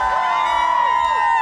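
A crowd at a Guyana Day dance competition in South Plainfield, New Jersey cheers and whoops for a dancer, loud and close, with overlapping high shouts and voices.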